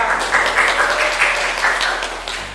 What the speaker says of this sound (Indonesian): Sebelumnya tepuk tangan dulu dong untuk Cantika.